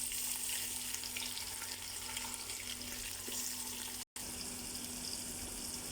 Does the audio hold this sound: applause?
no